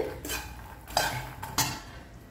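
A spoon stirs a weight-loss breakfast mixture in a pan over medium heat, making a few distinct metallic scrapes and clinks close by, with quiet gaps between them.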